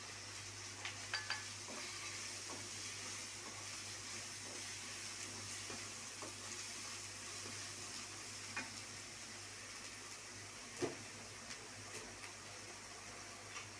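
A pan of green onion sizzles softly and steadily, with a few faint clicks and scrapes of stirring now and then.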